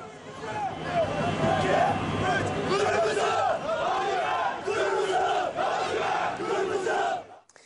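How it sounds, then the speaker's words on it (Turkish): Hundreds of Zonguldakspor football fans chant slogans in unison at a night championship celebration in the mining town of Zonguldak, a loud rhythmic crowd roar that carries on steadily before cutting off. "yüzlerce taraftar sloganlar atarak futbolculara sevgi gösterisinde bulundular"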